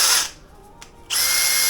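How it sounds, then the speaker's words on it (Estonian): A power drill bores during installation of a controller on a Husqvarna E5.5, a loud close whine that cuts off briefly, leaving a short quiet gap, then starts again at full speed. "Ja siis niimoodi hakkab puurima."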